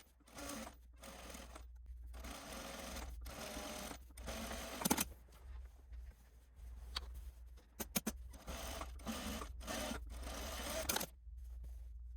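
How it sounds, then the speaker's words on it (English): A sewing machine top stitches two rows along the front yoke of a garment, running in short close whirring bursts separated by pauses, with small clicks and thumps from handling the fabric between runs; no one speaks. "You're going to top stitch 2 rows at the top of the front yoke, one at a 1/16 and another at a 1/4."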